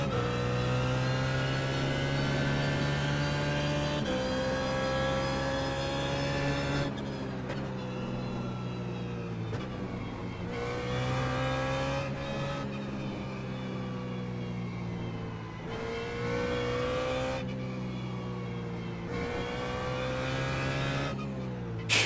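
A BMW GT3 race car in the iRacing simulator at Circuit of the Americas, its engine howling loud and close through repeated upshifts and downshifts, rising and dropping in pitch with tire noise, no talk.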